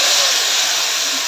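Boiled drumsticks tossed into a hot tempering of green chili and turmeric, a loud, steady steamy hiss and sizzle close up for a brief moment.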